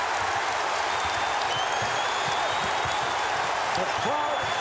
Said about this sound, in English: The crowd responding to Dikembe Mutombo.